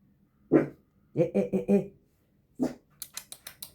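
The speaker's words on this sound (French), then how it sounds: "t'aboies" A dog barks in a short burst of four rapid barks after one earlier single bark, close by indoors, with a woman's soft hushing sounds in between.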